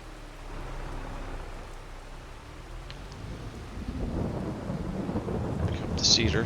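Steady rain falls outdoors on a ranch, a broad hiss that thickens and grows louder about halfway through, with a low rumble underneath and no one talking.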